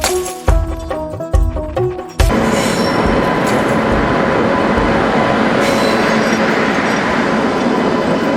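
A train rumbles across the Pamban railway bridge. Heavy mechanical clanks and hits open the passage, then a loud, steady rolling roar with wheel noise carries on from close by inside the carriage.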